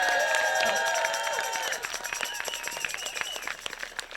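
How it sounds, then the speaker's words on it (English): Crowd at an outdoor democracy demonstration applauding military families, clapping and cheering that starts strong under a loud pitched tone and trails off into scattered claps. "Let's give them the honor they deserve by a big round of applause."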